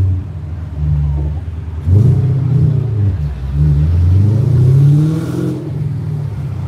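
Car engine revving in a racing video game with a Mustang, rising and falling rumbling revs that swell loud around two seconds and again near five seconds, with no talk over it.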